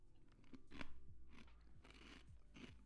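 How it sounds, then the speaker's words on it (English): Crunching while eating: close, quiet bites and chewing with repeated crisp crackles spread through a low background hum. "I had my mic down because I didn't want you to hear the crunching."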